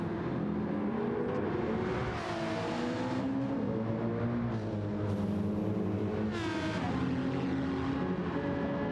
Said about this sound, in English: the rear exhaust of that V12 Aston in the background, making a lot of noise here at Monza today